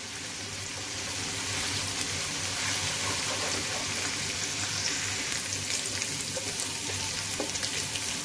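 Garlic and green chillies frying over a medium flame in a pan, a dense continuous crackle and sizzle, steady and fairly loud throughout, with no voices.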